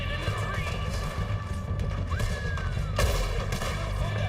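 A gunshot cracks loudly in Red Dead Redemption 2 partway through, amid horse whinnies, clattering game effects and a busy Western scene.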